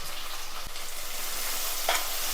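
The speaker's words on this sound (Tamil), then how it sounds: "இதையும் நல்லா ஃபுல்லாக வதக்கிக்கணும்" Chopped big onions sauté in oil in a pan for Tamil fish kulambu, giving a continuous dense sizzle with a couple of faint clinks from stirring.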